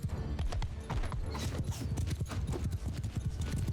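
Cavalry horses galloping in Mount & Blade II: Bannerlord, a rapid, uneven clatter of hooves from many mounts at once, with a brief whinny partway through, loud and continuous.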